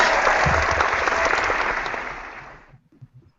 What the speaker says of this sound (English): Do you have one better than the clapping?